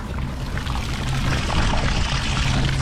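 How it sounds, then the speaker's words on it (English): A boat's bilge pump, a second pump with a higher flow rate, runs and discharges water out of the bilge, giving a steady close-up gush of pouring water with a low motor hum underneath, continuous for the whole stretch. "And pump number 2 should be kicking on pretty soon."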